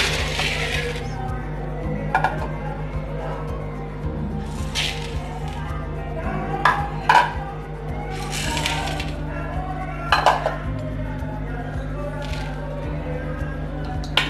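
Urad dal, chana dal and fenugreek seeds mixed together in a bowl, giving dry rattling, scraping and clinking of grains against the bowl in irregular bursts over a steady low background hum.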